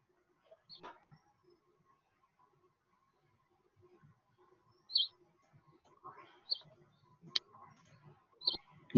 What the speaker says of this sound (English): Is it your birds? You can hear them.